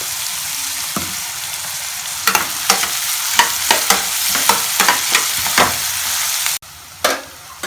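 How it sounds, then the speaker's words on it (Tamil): Chopped onions sauté with a light sprinkle of salt for Punjabi-style chicken keema, giving a loud, steady close sizzle broken by a regular run of spoon scrapes and taps against the pan, with no voices. "இப்போ இந்த வெங்காயம் நல்லா வதங்கிருச்சு ஓரளவுக்கு."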